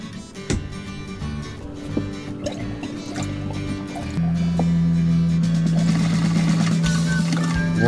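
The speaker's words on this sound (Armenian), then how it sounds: "հիմա մաքուր ջրի թենքը դատարկ է, ջուրը լցնեմ, տեսնեմ, փորձարկենք" Water gurgles and rushes steadily into the empty clean-water tank of a camper travel trailer, growing louder and fuller after a few seconds, close up with no talk.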